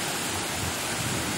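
Heavy unseasonal rain pours down in Nashik, a dense, steady broadband hiss of falling water with no pauses, fairly close and uniform throughout.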